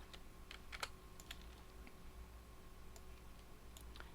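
Keyboard keys and mouse clicks in Photoshop, a handful of sharp faint taps spread unevenly over a low steady room hum, with no talking.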